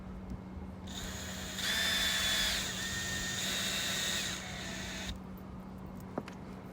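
A power drill with its clutch set low drives screws into a roof while a Maxxair vent is installed, whirring steadily for a few seconds and then stopping, close and moderately loud, followed by a brief tap.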